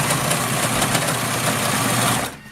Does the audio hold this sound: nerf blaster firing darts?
no